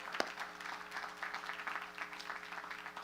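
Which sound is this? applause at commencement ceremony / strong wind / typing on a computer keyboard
applause at commencement ceremony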